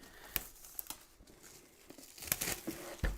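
Plastic packaging for a BTS ARMY membership kit is crinkled and torn open close by, in scattered sharp rustles and crackling bursts separated by quieter handling.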